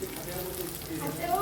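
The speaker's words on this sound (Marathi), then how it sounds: "हे मसाले तेलावर छान परतून घ्यायचे बघा" Ground spices such as turmeric, coriander powder and kitchen king masala fry in oil for a urad dal amti, giving a brief, soft, steady sizzle close by.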